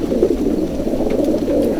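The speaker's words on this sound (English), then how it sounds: "I took a trip to Selby to watch some homing pigeons be liberated in the first race of this year's season" Homing pigeons at a race liberation in Selby, Yorkshire, giving soft continuous cooing and fluttering murmurs close by, a dense low bird chorus with no talk.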